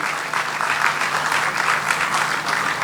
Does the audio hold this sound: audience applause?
yes